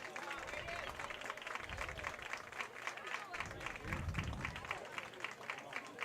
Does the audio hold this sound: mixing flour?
no